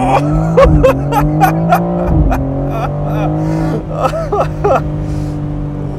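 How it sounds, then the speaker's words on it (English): A 2022 BMW M4 Competition Convertible launching under launch control, its engine droning loud and close with a rising pitch and a brief shift-like break; a voice exclaims over the roar. "I need to try and get another fast acceleration here just to experience it."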